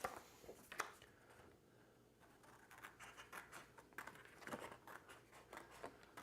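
Scissors cutting out a duct tape shape shaped like a small paper airplane, heard as faint, close snips and scratchy rustles in a quiet room, with no talking.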